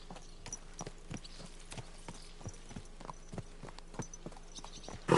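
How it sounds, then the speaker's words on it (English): A horse's hooves clip-clop at a steady walking rhythm in the video game Kingdom Come Deliverance 2, a regular series of crisp, fairly quiet hoofbeats with light ambient background. "Easy, good horse."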